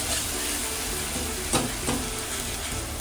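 Masala sizzling and frying in oil in a pan, a steady close hiss with a couple of brief stirring scrapes and no speech.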